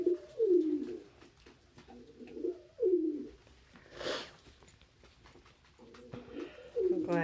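Pet pigeons bathing in their food give repeated soft, throaty coos in rising-and-falling phrases, close by, with a brief rustling burst between calls.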